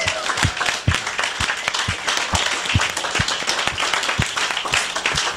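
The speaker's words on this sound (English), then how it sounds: "And clap one more time for all of the rest of the performers," An audience at a music ensemble event claps for the performers, a dense wash of applause with a few distinct nearby hand claps standing out in an irregular rhythm.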